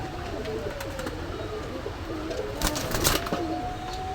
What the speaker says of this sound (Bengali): এক পেয়ার গররা কবুতর, খুব সুন্দর কবুতর